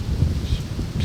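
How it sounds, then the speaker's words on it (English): Steady wind gusting through a thick wooded area beside a deer stand during a bow hunt, a continuous low rushing roar with no voices. "pretty windy."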